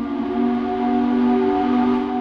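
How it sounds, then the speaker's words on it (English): A loud glass factory shift change whistle in Corning, New York blows one sustained, steady tone that holds without a break. "The shift change whistle still sounds four times a day in Corning, New York."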